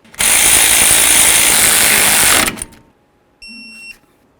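A power ratchet whirs loudly for about two seconds while tightening caliper bracket bolts on a 1994-2004 Chevy S-10, then stops abruptly, followed after a short pause by a brief high electronic beep.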